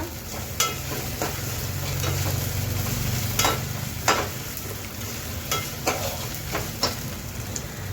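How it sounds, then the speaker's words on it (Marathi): Sprouted whole masoor lentils sauté in a pan for a Konkani-style usal, a constant sizzling hiss broken by periodic scrapes and clinks of a spoon stirring, close and without talk. "चांगली परतून घ्यायची, त्याचा कच्चेपणा जाऊ द्यायचा."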